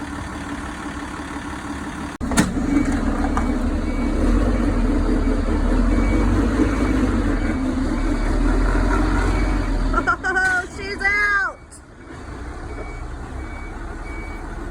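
A compost delivery truck, just freed after bogging in soft ground, runs its diesel engine loud and close, with its reversing beeper repeating throughout. The engine drops away near the end and a voice talks briefly.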